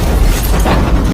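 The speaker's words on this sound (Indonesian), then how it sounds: "mobil Zeng pun meledak" A car explodes after being stopped at the roadside in a traffic jam, a dense, loud roaring blast that fills the whole moment with no voices over it.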